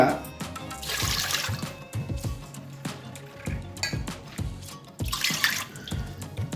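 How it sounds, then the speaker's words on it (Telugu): Water poured cup by cup into a cooking pot, about three cups for rice and ragi, heard as several bursts of splashing and gurgling pours separated by short pauses and clinks, close by. "దీంతో మూడు కప్పుల నీళ్ళని అయితే నేను ఇక్కడ వేసేసుకుంటున్నాను"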